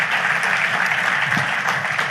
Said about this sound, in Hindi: जोरदार तालियों के साथ स्वागत कीजिए श्री अमित शाह का।